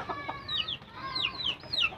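Chickens in a simple Filipino backyard clucking and calling in a string of short, rising squawks, one after another, fairly close, with no voices.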